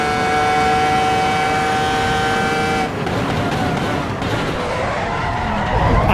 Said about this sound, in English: How good does this car sound,